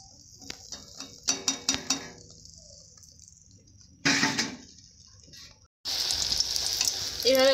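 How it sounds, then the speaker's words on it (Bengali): Food frying in a pan, opening with a few utensil taps and clinks, then a short loud burst of sizzle, a quiet gap, and a strong continuous sizzle to the end. "এইভাবে ভেজে নেবে।"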